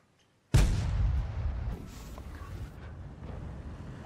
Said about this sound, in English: Arty has fired?